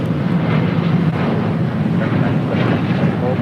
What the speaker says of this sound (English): This is United Airlines 1164 taking off to Washington Dulles on a 737-800